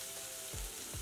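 Onions sizzling as they fry in a pan, a steady close hiss with a couple of soft stirring thumps.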